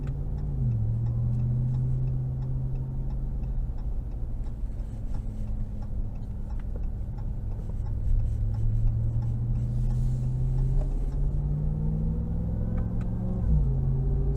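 A supercharged 2022 Ram TRX pickup truck accelerates hard, with a loud, steady engine rumble and a whine that rises in pitch as it speeds up. No one speaks.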